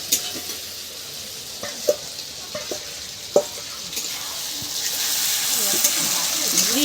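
Ground cumin, ginger, chilli and garlic paste fries with softened tomato in oil for egg curry, a steady close sizzle with scraping stirs and spoon taps against the pan, intensifying toward the end under occasional talk.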